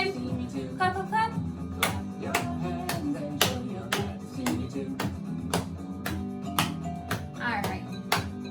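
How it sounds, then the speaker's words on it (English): Hands clap in a steady sequence during a children's movement activity with music, sharp distinct claps spaced about a second apart over a musical backing. "And clap those hands one last time. Clap, clap, clap."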